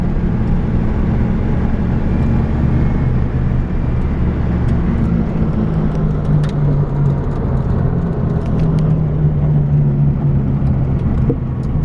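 A 1964 VW Beetle cruises smoothly down the road with a steady, even engine drone and constant road rumble heard from inside the car, with no talking.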